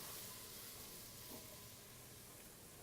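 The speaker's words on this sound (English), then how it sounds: "If we saute the pepper a little bit, it brings out the flavor." Pepper and seasonings sautéing in a pan, a steady faint sizzle and hiss running continuously and evenly throughout, with no voices.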